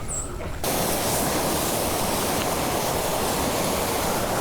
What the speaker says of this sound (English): Well, you can hear the spillway